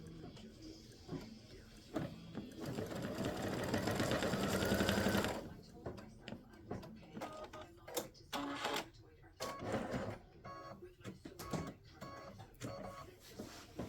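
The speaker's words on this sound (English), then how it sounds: "we're going to stitch the line where you're going to use to place these on" Embroidery machine stitching a placement line in a quick, rapid run of a few seconds, followed by clicks and handling sounds while a person talks.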